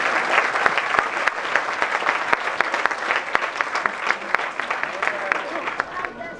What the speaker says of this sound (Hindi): इसके लिए भी तालियां।